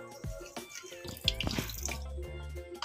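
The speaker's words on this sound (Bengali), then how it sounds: "তো কিছুটা ধুয়ে দিচ্ছি" Water splashing and running across a dirty floor being washed down, with intermittent pours and drips close by, no voices.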